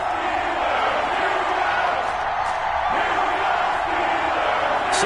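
Steady, dense crowd roar from a Texans versus Steelers NFL video game on EA Sports, played on PS4, a continuous wash of cheering with occasional louder whoops rising out of it.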